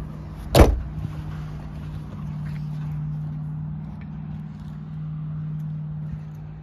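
A 2012 Audi Q5 Quattro's 60-40 rear seat releases with a single sharp clunk near the start, followed by a soft steady hum inside the cabin.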